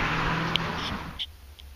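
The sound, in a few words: busy street traffic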